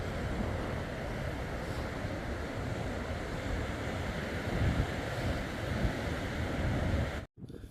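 Strong, steady wind roars across a beach in South Africa's St Lucia area, a dense continuous rush with surf mixed in, ending with a brief dropout.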